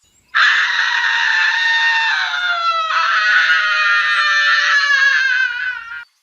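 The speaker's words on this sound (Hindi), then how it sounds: "ये तो किसी लड़की के चीखने की आवाज है।" A girl's high, sustained scream rings out alone in a deserted wilderness, loud and unbroken for about six seconds, wavering slightly in pitch before cutting off.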